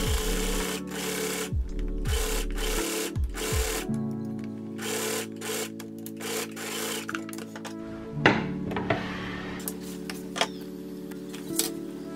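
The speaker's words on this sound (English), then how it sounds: "So I'm gonna sew all along where I put the pins" A home sewing machine stitches fabric along a pinned edge in several short bursts of rapid mechanical whirring, with pauses, fabric rustles and small handling clicks between runs.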